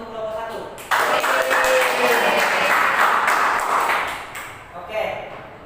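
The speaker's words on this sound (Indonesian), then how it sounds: "Kita beri aplaus dulu untuk kelompok 1." A fifth-grade class applauds group 1 during a micro-teaching lesson, a sudden dense burst of many hands clapping together that runs steadily for about three seconds before tapering off, with a voice talking briefly afterward.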